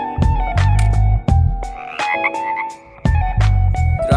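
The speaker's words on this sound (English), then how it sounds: "Frog." A frog croaks loudly and close by in repeated throaty bursts, a few in quick succession with brief pauses between them, with no other sounds around.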